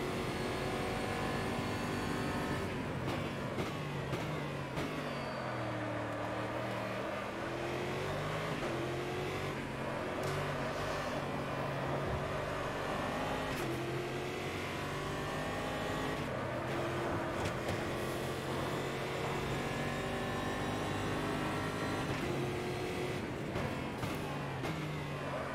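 Stock race cars lap the Melbourne track, heard from onboard as a continuous engine roar with rising and falling pitch through gear changes and acceleration, punctuated by occasional bumps and rattles.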